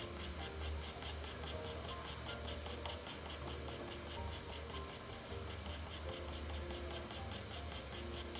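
Pastel pencil scratches steadily across paper in continuous short rubbing strokes, close and fairly faint, shading a portrait with no talk.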